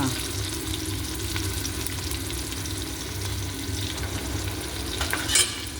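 Onions with ginger-garlic paste sizzle and fry steadily in a pan, a continuous close crackle with occasional stirring scrapes, and a brief louder clatter near the end.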